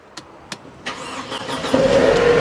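A Mercedes-Benz C180 engine cranks with a few clicks and whirs, then catches and settles into a steady, close, loud idle.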